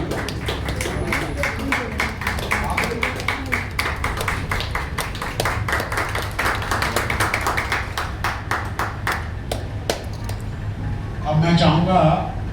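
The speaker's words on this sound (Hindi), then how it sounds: "जोरदार ताली" A gathering at an Arya Samaj temple claps in a run of sharp, fairly regular hand claps over steady background chatter, then a louder burst near the end.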